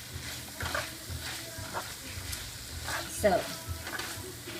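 Mushrooms and vegetables stir-frying in a pan give off a steady, moderate sizzle with occasional stirring scrapes, and a voice speaks briefly over it.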